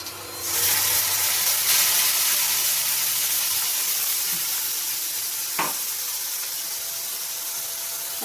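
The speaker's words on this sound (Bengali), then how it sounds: "এবার আমি মিক্সিতে যে মশলাটা পেস্ট করে রেখে দিয়েছিলাম সেটা আমি দিয়ে দেবো।" Ground spice paste sizzling in hot oil in a home kitchen while cooking a prawn curry with potato and pointed gourd; a loud, steady hiss rises at the start and carries on evenly, with a brief clink midway and no talking.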